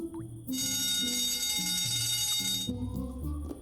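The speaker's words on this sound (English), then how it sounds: "Shouldn't you do something about that alarm?" Alarm in the point-and-click comedy game 3 Minutes To Midnight: a bright, continuous electronic ringing blares for about two seconds over soft melodic game music, then cuts off as the music carries on, with no talk.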